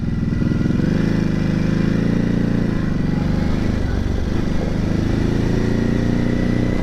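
A 2020 Ducati Hypermotard 950 SP motorcycle engine rumbles steadily and loudly throughout, its deep, even throb holding close and constant.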